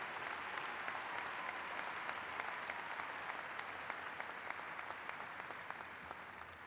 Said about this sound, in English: Can we have a round of applause for all of our new doctors of education?